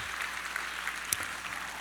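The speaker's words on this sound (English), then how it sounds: "give them a warm" Brief, even applause from an audience at a presentation on at-risk boys, a soft wash of clapping with no talk over it.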